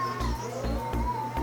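A cat meows in one drawn-out, steady call indoors, close by, over a rhythmic low thumping hum in the background.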